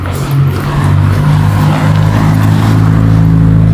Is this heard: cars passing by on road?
yes